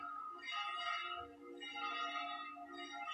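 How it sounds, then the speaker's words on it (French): Church bells ring in slow overlapping peals, moderately distant and fairly faint, with no voices over them, following a Regina Caeli prayer service. "Écoute le son des cloches"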